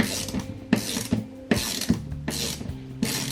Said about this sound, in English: So I have here 9mm socket wrench.